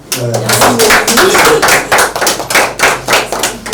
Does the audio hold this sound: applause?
yes